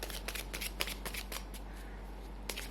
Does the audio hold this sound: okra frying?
no